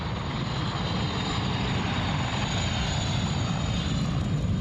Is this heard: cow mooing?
no